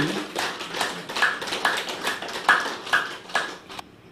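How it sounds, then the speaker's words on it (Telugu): An audience at a meditation talk claps loudly in unison, a steady rhythmic run of about nine sharp, close claps that stops abruptly. "ఒకసారి గట్టిగా క్లాప్ చూద్దాం"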